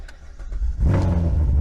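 A cheap salvage-auction Corvette cranks with a few clicks and faint turnover, then catches and fires into a loud, deep, steady engine rumble up close.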